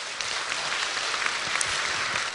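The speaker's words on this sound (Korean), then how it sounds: "우리 경례 박수 한번 부탁드립니다." Steady, dense clapping from an audience at a Korean Buddhist Q&A lecture, a continuous even wash of applause with no voices over it.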